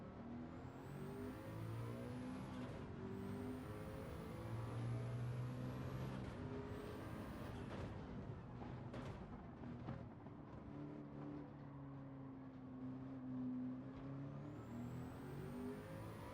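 A racing car in Gran Turismo 7 on PS5, driven hard on the throttle, holds a steady, loud engine drone with rising and falling pitch through gear changes. It runs without talk for the whole stretch.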